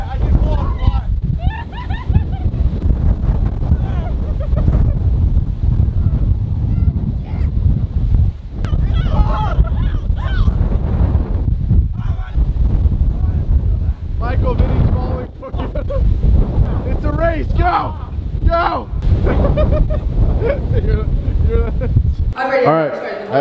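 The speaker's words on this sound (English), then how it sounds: "Guys, it's a little windy. It's too windy." Strong wind buffets the microphone in loud, continuous rumbling gusts, with voices speaking intermittently over the roar outdoors.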